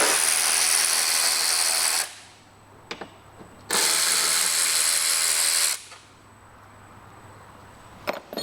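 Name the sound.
Allen key removing screws from Vespa seat rack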